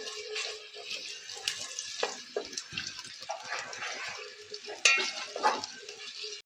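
Chopped onions stirred in a hot pan for mutton Lahori keema, a close scraping and sizzling with irregular bursts as the spoon moves, no talk.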